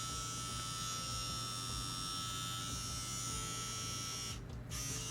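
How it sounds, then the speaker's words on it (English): An Ez Tattoo Nano tattoo machine runs with a needle fitted, giving a steady, close, coil-like electric buzz with a constant hum that dips briefly near the end. "it has a coil-like sound to it because of the design"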